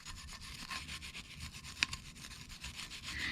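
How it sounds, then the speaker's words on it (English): A wire brush scrubs the front brake caliper bracket of a 2017-2022 Honda CR-V in quick, faint, rhythmic rasping strokes, with one sharper scrape partway through. "Just take a wire brush, just kind of agitate a little bit, make sure you get in the grooves and stuff"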